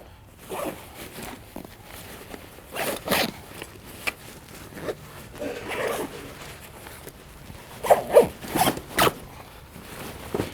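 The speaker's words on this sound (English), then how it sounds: "that's kind of when I'll zip it up" A KUIU hunting backpack being zipped up in a showroom: a series of quick rasping zipper pulls in irregular bursts, loud and close, with brief pauses and faint handling noise between.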